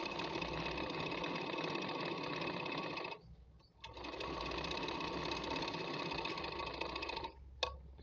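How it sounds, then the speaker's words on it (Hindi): A sewing machine stitches a salwar, running in a fast, even mechanical whir up close, pausing briefly partway through, then resuming at the same steady pace before stopping again near the end. "सिलाई करणी आहे।"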